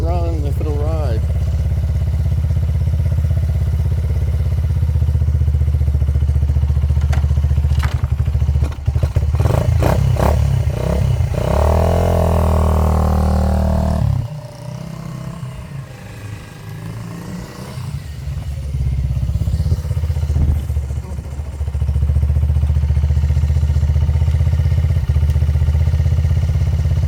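A 1979 Honda XL100S motorcycle engine runs loud and close, with a steady low drone, a few revving bursts and clattering, dipping briefly midway before settling back into an even idle, with talk over parts of it.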